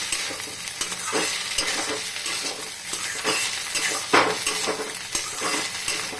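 Cauliflower and egg bhujia is stirred in a hot pan, giving a continuous sizzle with repeated scraping strokes of a spatula against the metal, close and fairly loud, with no talking.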